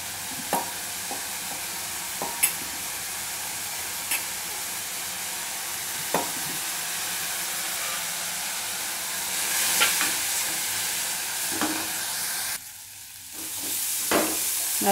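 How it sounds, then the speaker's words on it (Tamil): Broad beans sautéed in coconut oil after tempering sizzle steadily in a pan, with a spoon tapping and scraping now and then, and the frying briefly hushes near the end before resuming. "தேங்காய் எண்ணெயில் தாளிச்சுட்டு நல்லா வதக்குங்கோ"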